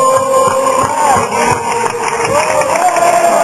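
A tennis crowd at a São Paulo open semifinal chants a sung refrain in unison, a loud, close, continuous mass of voices with melodic rising and falling lines.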